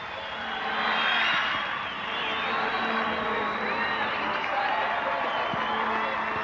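A stadium crowd in Tampa, Florida cheers a USA goal during a April 1997 women's soccer friendly against France, a sustained roar that peaks early and stays broad and steady, with a voice faintly underneath.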